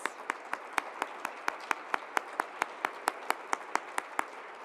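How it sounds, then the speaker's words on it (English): Audience at a university distinguished faculty event applauding committee members standing to be recognized; evenly spaced, distinct claps in a steady rhythm over a low murmur of the room, lasting the whole stretch. "Let's give them all a round of applause."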